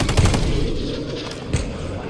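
Rapid automatic gunfire from a weapon in Call of Duty, steady bursts of loud shots running through the clip with a sharper crack near the end.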